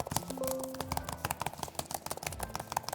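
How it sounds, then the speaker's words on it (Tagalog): Fingers type on the quiet, non-mechanical keyboard of a 2022 Huawei Matebook 14 laptop, giving rapid, soft, close taps in uneven bursts over a faint background hum. "Keyboard nito is quiet and hindi mo mafe-feel yung clicky-clicky like mga mechanical keyboard."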